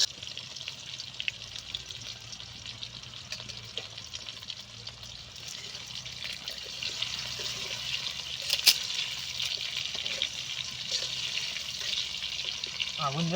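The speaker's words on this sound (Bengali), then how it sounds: "এবার আমরা আলু দিয়ে দিয়েছি কড়াইতে।" Potatoes fry in oil in a wok, a faint, steady sizzle running on with occasional stirring scrapes and a sharp click midway, no speech over it.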